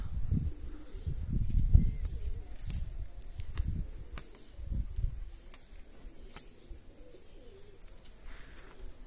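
Pigeons at a dovecote, including young Iranian and Baku breeds, give low, repeated throaty coos in soft bursts, with faint rustling and occasional sharp clicks nearby and no talking.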